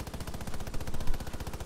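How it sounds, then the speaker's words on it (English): Rapid automatic gunfire from hip firing in Rainbow Six Siege, a dense stream of sharp shots in fast, steady rhythm lasting the whole moment, loud and close with no talk. "I'm over here hip firing and I'm hitting him."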